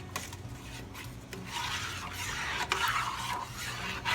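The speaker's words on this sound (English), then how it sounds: "I'm just smushing it against the side of the pot" Pectin being stirred and pressed against the side of a pot of muscadine juice for jelly, heard as close, continuous scraping and rubbing strokes that grow a little louder toward the end, with no voices.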